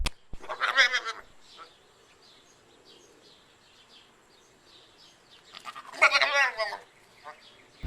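A goat bleats in two loud, close calls, one at the start and another near the end, with a quiet gap between them.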